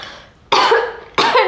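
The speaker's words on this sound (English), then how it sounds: "I don't know why I'm coughing." Two harsh coughs about half a second apart, close and loud, with no talking.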